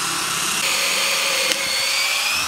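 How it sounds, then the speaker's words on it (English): A power drill bores holes in wood while boxing in kitchen pipework, a loud continuous whine with its pitch shifting as the bit cuts. "Drill some holes."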